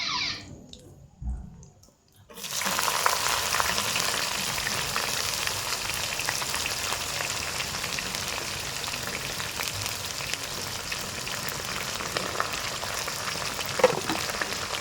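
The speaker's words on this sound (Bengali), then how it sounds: "চলুন পেঁয়াজটা কতক্ষণ ভাজা হোক" Onions fry in a pan after the tempering spices, a steady loud sizzle that starts abruptly and crackles continuously at close range.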